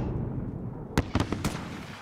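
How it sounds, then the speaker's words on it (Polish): Illumination flare rounds fired in Call of Duty: Modern Warfare, heard as a quick cluster of four sharp pops and bursts in the middle, over a steady low rumbling battle background. "Leci amunicja oświetlająca!"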